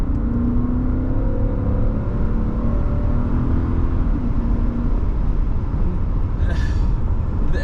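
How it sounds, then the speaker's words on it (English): A 1991 Mercedes-Benz 500SL with the M119 V8 accelerates on the road, a steady loud engine drone rising smoothly under wind and road noise, heard from inside the car with no talk. "The engine just builds so smoothly with power."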